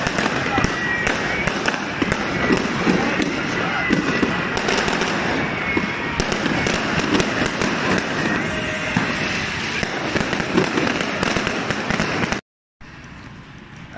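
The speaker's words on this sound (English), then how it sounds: "they decided to set off yet more fireworks in celebration of the occasion" Dense, continuous fireworks crackling and popping with sharp bursts throughout, then a brief cut and a quieter tail; voices are faintly mixed in.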